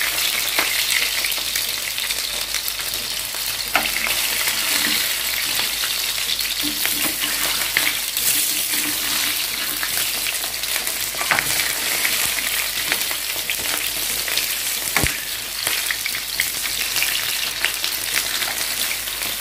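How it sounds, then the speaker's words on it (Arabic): Stuffed mumbar intestine casings fry in a pan with a constant close hiss and sizzle, broken by a few sharp pops and crackles and no talk. "بس هم دول اللي انا عايزه احمرهم هنعين بقى الباقي في الثلاجه"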